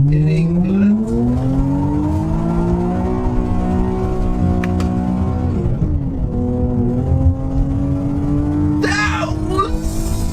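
A Nissan Skyline slides sideways on an English road, its engine revving up and holding high with rising pitch, dipping and climbing again, while tyres squeal briefly near the end and people talk over it.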